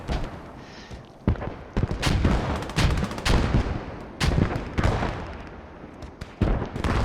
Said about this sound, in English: So they built the mortars quite close, or at least one of them.